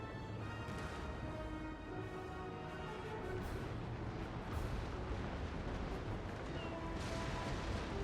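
Naval cannon volleys thunder during a fleet battle in the Napoleon: Total War video game, a dense rumble of repeated booms and cracks that stay mid-distance and fairly quiet under the game's steady background din.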